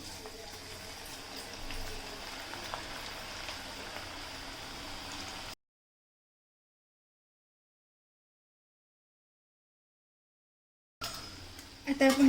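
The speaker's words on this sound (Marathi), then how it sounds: "आपलं आता तेलसुद्धा चांगलं तापलेलं आहे आणि आता आपण ह्या भजी तेलामध्ये सोडून घेणार आहोत" Capsicum pakoras (Shimla mirchi bhaji) fry in hot oil with a steady, crackling sizzle for several seconds, then cut to silence before the sizzling returns, louder, at the end.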